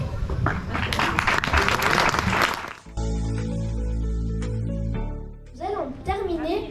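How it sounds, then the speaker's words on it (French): An audience at the inauguration of a reading cabin in Tamines bursts into loud, full applause for about three seconds, which then stops abruptly and gives way to a steady tone and a voice. "Merci d'applaudir très fort John et Steve."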